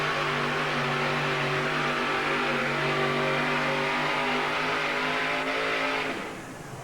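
A monster truck pulls down the track at the 1987 USHRA event in Tucson, its engine roaring at a loud, steady pitch for about six seconds before cutting off sharply.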